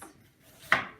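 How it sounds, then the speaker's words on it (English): A single knife chop through an onion on a cutting board, one sharp near strike with a brief rasp of the blade, set against a quiet kitchen. "peel and chop the onion"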